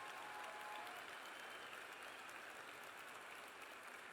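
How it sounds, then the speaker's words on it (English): An audience at a college graduation ceremony applauds the faculty, a steady dense clapping from a large crowd heard at a moderate distance and sustained for several seconds without speech. "Would you give our faculty a round of applause?"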